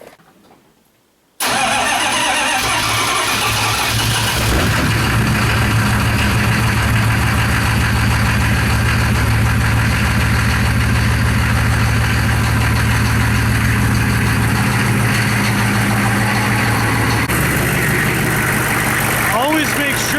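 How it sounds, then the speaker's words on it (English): Car engine idling during a transmission swap, starting up after a brief quiet moment and then running loud, steady and close for the rest of the clip with a constant low rumble. "Always make sure that you work on your engine while it's running."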